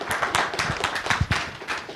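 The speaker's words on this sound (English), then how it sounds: "Let's give them a round of applause" A conference audience gives a short round of applause at an innovation event, a brief flurry of individual hand claps close by with no voices.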